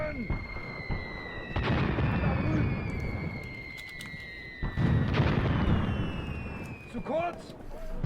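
Mortar fire support shelling in the WW2 video game Graviteam Tactics: Mius Front, two heavy distant-sounding booms a few seconds apart, each followed by a rumbling tail, with faint whistling tones running throughout.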